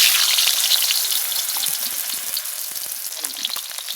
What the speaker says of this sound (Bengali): কড়ার মধ্যে দিয়ে দিচ্ছি তেল। দিয়ে দিচ্ছি আলু